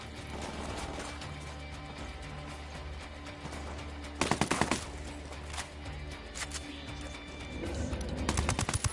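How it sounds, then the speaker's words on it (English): Sustained automatic gunfire in the video game Ghost Recon Wildlands, a steady loud rattle of bursts with sharper, louder volleys breaking through near the middle and end. "Spotted. Opening fire."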